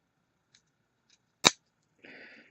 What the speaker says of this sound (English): Sorry for the snipping.